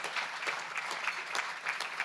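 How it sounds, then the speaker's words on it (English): A room of attendees at a county chamber of commerce event applauds in a steady, continuous wash of clapping, fairly soft and even throughout. "I'll take a round of applause for that support now"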